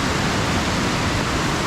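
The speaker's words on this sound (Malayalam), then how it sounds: "ഇപ്പൊ ഭയങ്കര വെള്ളം കേട്ടോ" Loud, dense rush of a swollen stream running fast near the Nariyampara waterfalls, a thick unbroken roar filling the whole moment.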